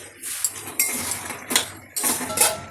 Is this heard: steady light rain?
no